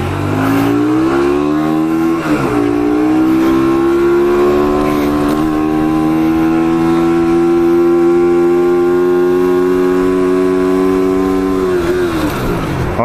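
A Hyosung Aquila 125 motorcycle engine revs hard and steadily on a test ride, holding a loud sustained high pitch for about ten seconds before dropping back, with no talking.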